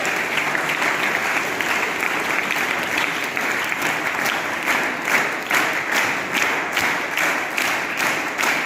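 A school assembly audience at JNV Akkalkuwa applauds loudly and steadily, a thick wall of clapping that holds throughout with a faint pulsing rhythm.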